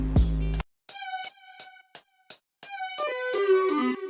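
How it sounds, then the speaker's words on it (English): Short synth lead accents from an Analog Lab preset play a bright, staccato melodic figure of about ten plucky notes with clean gaps, growing busier toward the end, after a brief noisy swoosh at the start. "So now that I've got the guitar done, what I did was I added these little synth accents."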